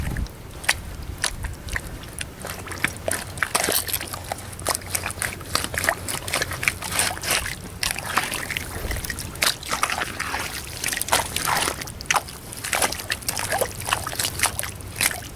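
Water sloshing and trickling as someone wades through an Appalachian creek, forging a path along the bank for raccoon trapping; steady close splashing with irregular louder sloshes, no voices.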